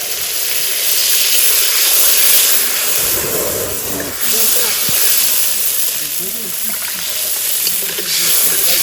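Steady, loud hissing sizzle from a hot pan as dried chili paste, salt and water go in, with a broad steamy roar that swells briefly midway and holds throughout.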